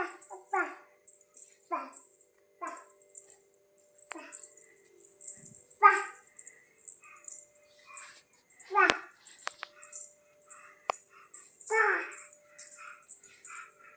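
A dog barking in short repeated yaps with some whimpering, near and fairly loud, with voices talking in between.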